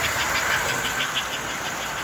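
An American Flyer 283 S gauge toy steam locomotive hauling 20 box cars, a continuous close whirring motor hum and track rumble with faint rhythmic clicking throughout.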